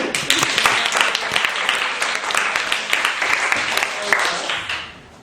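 A crowd claps and cheers for Marian in a lively round of applause that holds steady, then fades out near the end.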